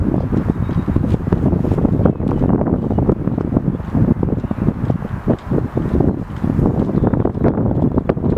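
Strong, steady wind buffets the microphone on an open golf course, a continuous low roaring rumble with gusty swells and no talk.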